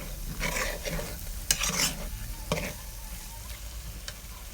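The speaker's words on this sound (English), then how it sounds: "You fry it for some time, keep stirring, don't leave it, so that you don't have your egusi burnt." Egusi (ground melon seeds) frying in a pot for Nigerian egusi soup, stirred continuously with a utensil: steady close sizzle with scraping strokes and a few sharp clanks against the pot, no speech.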